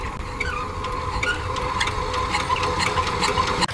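A large rice-field tractor's engine starting and settling into a steady, fairly loud mechanical chug with clattering rattles, heard close and without talk.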